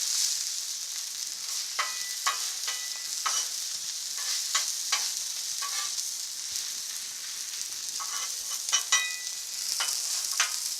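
Hash browns and sausage frying on a Blackstone griddle, a steady bright sizzle with scattered spatula scrapes and stirring clicks, close and alone without talk.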